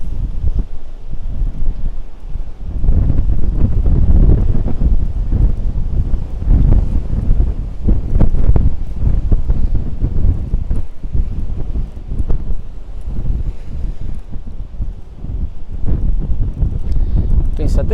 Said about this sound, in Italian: c'è un vento fortissimo